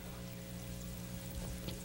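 Sparge water running steadily into a brew pot while brewing an all-grain batch of about 2.5 gallons of beer, a continuous pouring wash with no talk.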